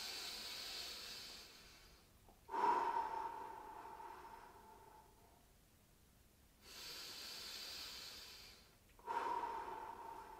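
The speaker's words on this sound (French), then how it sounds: "Et je suis parti pour 3 longues respirations." Slow, deep breaths drawn and released during a gentle shoulder stretch in a no-equipment fitness session, a soft hissing inhale and exhale, then another, close and quiet with no talking.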